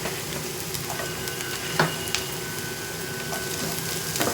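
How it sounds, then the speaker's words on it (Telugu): Garlic and onions frying together in a pan for a sesame-flour (telagapindi) garlic curry, giving a steady, close sizzle and crackle with a few brief stirring clicks and no voices. "ఉల్లిపాయలు వేగిన తర్వాత వెల్లుల్లిపాయలు వేసేసుకుందాం"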